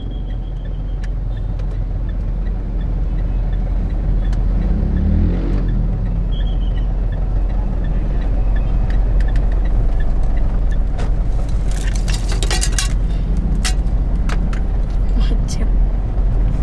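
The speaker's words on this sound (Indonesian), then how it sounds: "jalanan macet, seperti yang tidak terjadi apa-apa." Street traffic on a crowded road in Indonesia during a stay-at-home period, a steady close rumble of car and motorbike engines with passing vehicles throughout, people talking over it.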